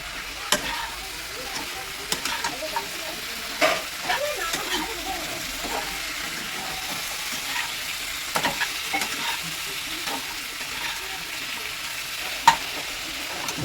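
Vegetables, including cauliflower, sizzle steadily in a pan while a spoon stirs and scrapes through them, giving irregular clacks over a continuous close frying hiss.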